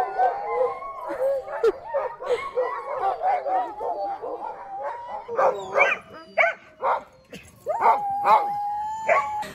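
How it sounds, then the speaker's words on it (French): Excited sled dogs bark, howl and whimper together in a loud, continuous chorus, with several overlapping yelps and rising howls close by. "les chiens, ils aboient, ils ont hâte"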